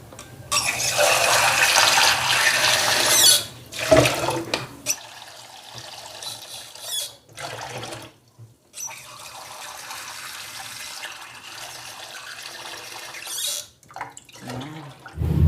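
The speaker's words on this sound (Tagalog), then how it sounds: "Ang ilalagay nating tubig ay tatlong ganito." Water runs and splashes steadily into a cooking pot for a few seconds, pauses, then pours again in a longer continuous stream.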